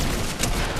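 A short, dense burst of rapid gunfire from a mounted gun in Fortnite, loud and harsh, lasting under a second.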